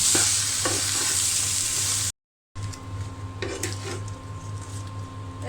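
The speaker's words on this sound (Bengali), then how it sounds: "স্বাদ মতো লবণ এবং সব উপকরণ দিয়ে দিয়ে আমি একসঙ্গে ভালো করে কষিয়ে নেব" Gourd curry with salt and spices sizzles loudly in a pan while a spatula stirs and scrapes, with a brief silent gap midway and no talking.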